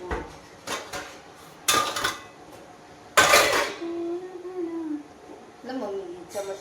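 A spoon and dishes clatter in a home kitchen while sheera is being made: a few sharp, close metallic knocks and scrapes spaced between stretches of voices talking.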